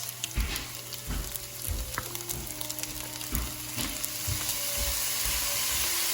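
Hibachi-style food sizzling on a home grill with soy sauce added, a loud continuous sizzle with spatula scrapes and knocks in an irregular rhythm, close up, no talking.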